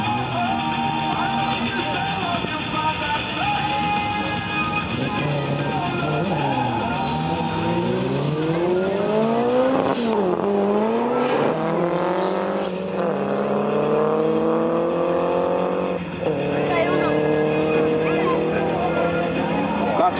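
Rally or race cars, including an Opel Kadett and an Escort, race around the Kiikala circuit, engines rising and falling through gear changes as they pass near and far, with a continuous roar across the whole stretch.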